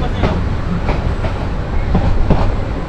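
A train runs near Sharatnagar railway station, giving a steady loud rumble with repeated rhythmic clacks of wheels over rail joints, heard close from on board.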